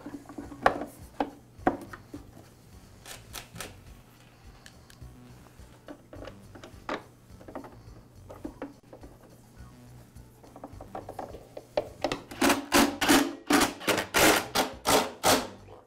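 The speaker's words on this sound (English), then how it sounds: "And now reinstall the motor cover." A plastic motor cover is refitted on a Husqvarna backpack blower: scattered clicks and light knocks, then a fast run of loud ratcheting clicks near the end, close up with no talk.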